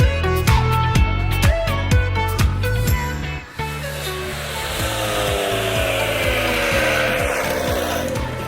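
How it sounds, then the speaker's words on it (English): A petrol quick cut saw rips through a rendered balustrade wall during an 1880s house restoration, giving a loud, close, steady high-pitched grinding whine that falters briefly then settles into a continuous cut. "let's bring in the big gun in the form of a quick cut saw"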